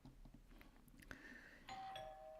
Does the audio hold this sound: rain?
no